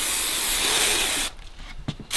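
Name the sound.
spraying adhesive glue onto fabric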